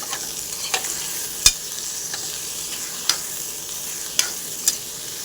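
Eggplant and onions are stirred in a hot pan under a constant frying sizzle, with a spatula tapping the pan sharply five or six times at irregular intervals, close and clear with no talking.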